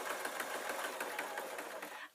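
A sewing machine stitches fleece for a tablet sleeping bag, a fast steady whirring rattle of the needle running continuously, close and fairly quiet, stopping at the end.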